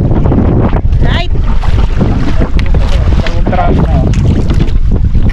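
Strong wind buffets the microphone with heavy low rumbling and gusting roar, constant and loud, with a voice faintly mixed in.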